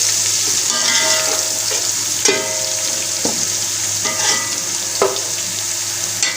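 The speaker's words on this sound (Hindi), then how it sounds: "इसे थोड़ा सा भूनेंगे।" Sliced onion browned with ginger-garlic paste frying in a pan while being stirred, a steady close sizzle broken by several sharp scraping strokes of the spoon, with no voices.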